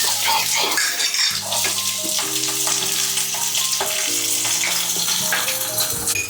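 Chopped onion fries in oil with mustard seeds, cumin and fenugreek, giving a loud, close, continuous sizzle with crackling spatters and occasional stirring clinks.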